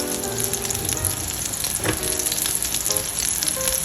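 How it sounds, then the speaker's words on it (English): Meatball searing in oil inside a Le Creuset pot, a steady close sizzle and crackle running without a break, with a few faint clinks partway through. "So right now I am searing it about 1 minute on each side first."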